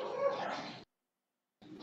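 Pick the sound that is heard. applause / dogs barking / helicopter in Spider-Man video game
dogs barking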